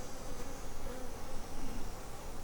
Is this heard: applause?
no